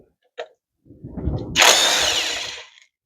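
Removing the 10 mm ground strap bolt from the mount on a Mazda 5 with a 2.5L Duratec engine, heard as a short tap, then a close, loud mechanical whir that rises to a sustained buzz before cutting off.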